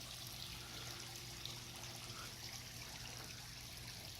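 Jets of pool water spill like a small waterfall, a steady, continuous trickling splash at low level with no talking.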